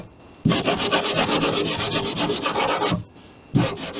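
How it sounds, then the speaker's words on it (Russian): Sandpaper rubs hard over a rotted car wheel arch and fender in rapid back-and-forth strokes, a loud steady rasp that breaks off briefly and then starts again, with no talking. "Смотрим, где наждачка берет."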